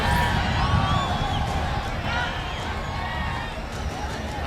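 A dense crowd at a DMK rally for MK Stalin in Coimbatore gives a continuous roar with scattered shouts and whistles, while a voice speaks over it.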